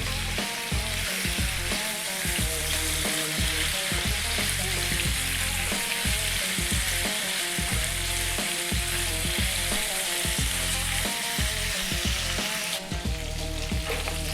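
Mutton stew meat browns in a hot pot with a loud, dense, unbroken sizzle that stays steady throughout, broken only by faint stirring sounds.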